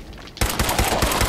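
Rapid automatic gunfire erupts in Fallout 4 after a quiet moment, a dense continuous burst of loud shots fired at ghouls.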